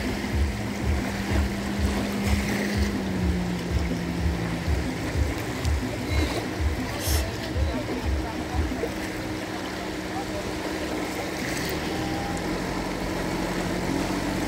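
Fishing boat approaching the seashore with its net, a rhythmic low motor throb pulsing steadily for several seconds then fading, over constant broadband wash of waves and surf.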